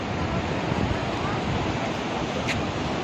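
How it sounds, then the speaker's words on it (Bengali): The Mandakini river flows beside Gaurikund on the Kedarnath pilgrimage route, giving a steady, full rushing roar of mountain water that stays constant and close throughout. "পাশে আমাদের বইছে মন্দাকিনী"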